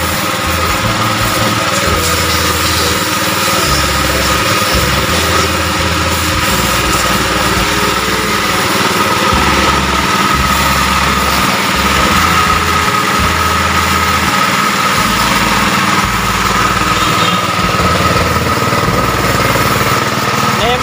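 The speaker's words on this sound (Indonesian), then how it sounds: "Ini mesinnya" A used pickup truck's engine idles steadily for the whole stretch, a loud, continuous mechanical drone with a faint rhythmic chatter and no speech over it.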